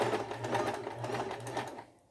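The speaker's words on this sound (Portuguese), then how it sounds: "Eu não gosto de mostrar costurando, às vezes por causa do barulho" Sewing machine stitching fabric for a double-sided garment, a steady fast mechanical whirring hum with a rhythmic pulse, close and continuous before stopping abruptly.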